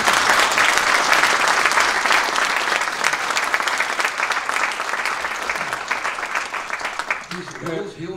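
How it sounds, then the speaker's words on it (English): A museum audience at Moderna Museet breaks into loud, dense applause during a talk with two artists, holding steady before thinning out at the end, where a voice begins to speak. "We should have a big applause for him."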